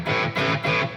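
An electric guitar with heavy distortion plays three sustained, buzzing chords in quick succession, each swelling and fading, loud and close with no talk.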